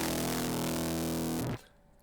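A distorted guitar tone pitched an octave down runs through a plugin with no cabinet simulation, giving a harsh, buzzy, fizzy sustained roar that cuts off abruptly near the end, with no talk.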